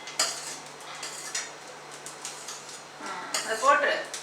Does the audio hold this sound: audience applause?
no